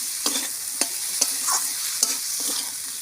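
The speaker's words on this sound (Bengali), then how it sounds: "নুন, ভালো করে একটু কষে নেবো।" Stir-frying with salt in a kadai, a soft background sizzle punctuated by about six sharp spatula scrapes and knocks against the pan at an uneven rhythm, close and clear with no talking.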